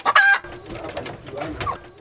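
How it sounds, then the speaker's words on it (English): Chickens kept for sale in a home compound in Kenya, with a sharp loud call at the start followed by softer clucking and mixed bird noise nearby. "He also keeps few chicken for sale."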